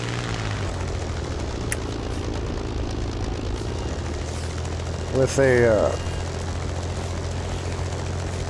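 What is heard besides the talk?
low-tier German propeller plane circling in video game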